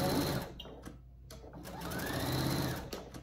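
A sewing machine stitches down the armhole of a pillowcase dress, running in close bursts with a brief pause in the middle, then a longer steady whir.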